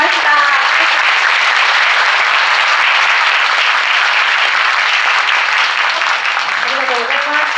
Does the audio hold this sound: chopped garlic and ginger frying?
no